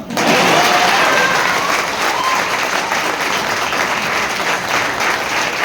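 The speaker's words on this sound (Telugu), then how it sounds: "ఇప్పుడన్నా క్లాప్స్ కొడదామా?" An audience claps loudly and continuously at a business talk, a dense sustained roar of hands holding steady throughout with no speech.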